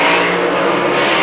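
Top alcohol funny cars launching side by side at a 1995 ANDRA drag race, a loud, dense engine roar filling the whole short moment with no voices.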